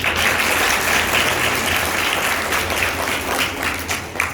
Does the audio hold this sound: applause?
yes